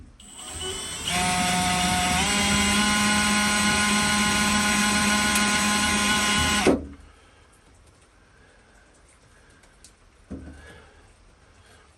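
A loud, steady high-pitched whine of a power tool dimpling spot welds on rusted sheet metal runs for several seconds, then cuts off abruptly, leaving quiet room noise and a faint clunk.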